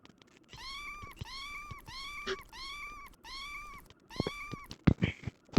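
A video game cat meows in a regular series of about six identical, evenly spaced mews, clear and close, followed by a few short clicks and thumps from the game.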